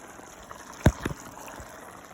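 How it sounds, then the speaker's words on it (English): Half a glass of water poured into a pan of Indian-style chicken curry, a short sizzling splash followed by a brief second spatter, close and quiet against a soft background hiss. "So add half a glass of water,"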